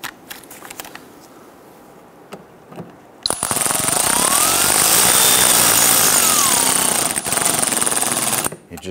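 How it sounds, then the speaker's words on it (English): A power tool drives screws into the front grille of a 2011-2019 Ford Explorer, a loud, steady whir lasting about five seconds up close, framed by quieter handling clicks before and after. "Let's go ahead and install our screws."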